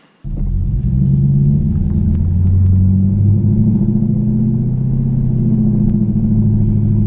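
A Chinavette car starts off and pulls through second and third gear, its engine a loud, close, deep droning rumble that sets in abruptly and holds steady with shifting tones, no voices over it.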